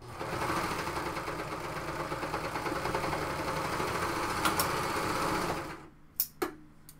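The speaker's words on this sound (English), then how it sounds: "then you'll sew with the sewing machine" A sewing machine stitches a blouse, running in a steady continuous whir for several seconds before stopping, followed by a couple of brief clicks and taps.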